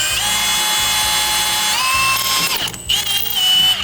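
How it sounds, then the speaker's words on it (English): A power drill bores a 3/16-inch hole into a used carburetor from a 1965 Ford Mustang being fitted with a supercharger. The whine is steady and close, its pitch sagging and shifting as the bit bites, with a ratcheting mechanical chatter underneath. "drill a 3/16 hole right here and hope that I'm doing it right in the right spot and I don't completely destroy this carburetor"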